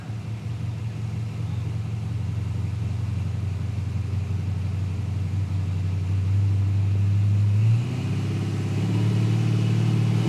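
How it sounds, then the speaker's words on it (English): Holden Centura drag car idling and revving at Palmyra Raceway, Australia, heating its tyres, a loud steady engine rumble with a brief rising rev near the end. "Rowan Ellam in the Centura, getting plenty of heat in the tyres"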